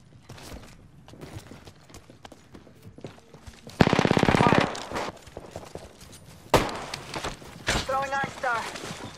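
Gunshots in an Apex Legends match, including a RE-45 pistol: scattered sharp shots, then a dense rapid burst of fire midway, followed by more cracks and clattering, with a voice speaking at times.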